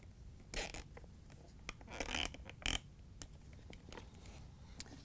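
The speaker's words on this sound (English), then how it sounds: "we're going to run the zip tie underneath it and bring it over the top and tighten it down" A plastic zip tie is ratcheted tight around an icemaker wire harness on a Frigidaire/Electrolux replacement unit, giving several quick close zipping rasps in bursts against a quiet background.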